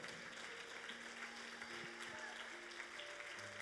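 Members of a Spanish-speaking congregation clap together as an offering of praise during a church service, a continuous bed of many hands under sustained keyboard or organ notes.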